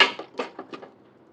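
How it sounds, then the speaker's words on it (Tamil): Tomatoes and salt stirred in a cooking pan give a few quick light scrapes and taps of a spoon against the pan, close and soft, fading out within a second. "தக்காளி உப்புலாம் போட்ட பிறகு ஃப்ளேமை ஹையில் வச்சு அப்படியே நல்லா கிண்டி விடுங்க"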